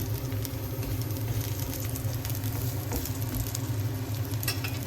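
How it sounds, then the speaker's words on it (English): Onion frying in a pan, giving a steady, dense sizzle that stays even and close for the whole stretch, with no talk over it. "Fry our onion. We'll wait until it's golden brown."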